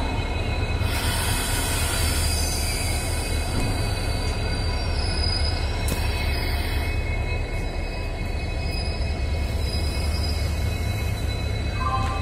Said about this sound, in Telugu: ఒక ఇంజిన్ లోకో రివర్సల్ అవుతుంది.